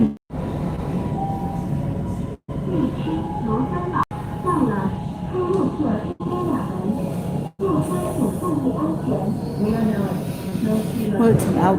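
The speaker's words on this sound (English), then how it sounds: "It's a light railway, so connection should be okay." A light railway train rolls along an outdoor line, giving a steady rumbling ride noise broken by a few sharp clunks, with voices talking throughout.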